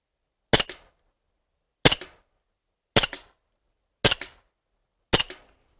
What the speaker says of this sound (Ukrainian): зараз відстрілюю 5 куль е, з зігзауера по правій паперовій мішені